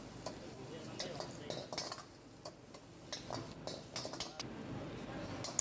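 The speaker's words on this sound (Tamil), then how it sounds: "இதே மாதிரி மிக்ஸ் பண்ணுங்க" Vegetables, basil and chopped onion being stirred in a pan for Thai basil egg, with soft scraping and clinking of a utensil against the pan in an irregular rhythm, faint and close, with a brief louder clatter at the end.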